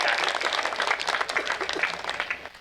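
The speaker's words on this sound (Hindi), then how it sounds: "तालियां डॉक्टर भुवन मोहनी आपके बीच में।" Audience applause at a Hindi poetry recital, a dense, steady wash of many hands clapping that carries on without pause for a few seconds.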